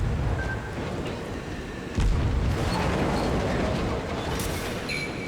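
Cruiser guns firing high-explosive shells in World of Warships: a deep boom roughly two seconds in, over continuous low rumbling sea and engine noise, with faint distant thuds and pops around it.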